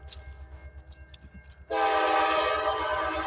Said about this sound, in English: we're gonna see the train coming.